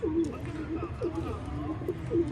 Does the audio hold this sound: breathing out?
no